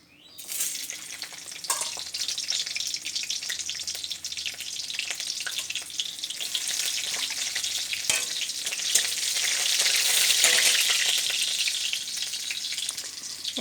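Chopped garlic fries in plenty of oil in a wok, a bright continuous sizzle with stirring scrapes that swells toward the end, heard up close with no talk.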